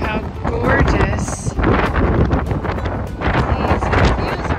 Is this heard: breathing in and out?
no